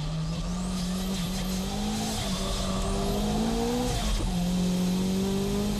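A turbocharged Nissan S15 and an NSX race closely around Fuji circuit, engines droning loud and continuous with rising and falling pitch through shifts, tires squealing on a big bend.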